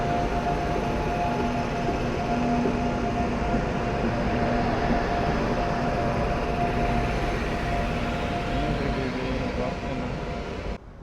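A goods train hauled by a WAG9 electric locomotive rolls past a halted passenger train, producing a steady, loud rumble of wagons with faint tonal whines, continuous for about eleven seconds before cutting off abruptly.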